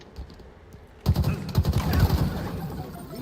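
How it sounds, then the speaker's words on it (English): Gunfire in a Halo video game breaks out as a rapid burst of close, sharp shots after a brief quieter start, then rattles on as dense, loud automatic fire. "I hear gunshots."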